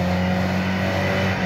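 A stuck car's engine revs loudly and steadily at close range on a snowy winter drive, a constant strained drone with no talk over it.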